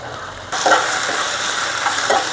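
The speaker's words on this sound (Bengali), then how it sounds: "হালকা একটু ভেজে নেব।" Meat frying in a pan with ginger and garlic paste: a sudden loud sizzle starts and hisses on steadily, with occasional stirring scrapes, close up and with no voices.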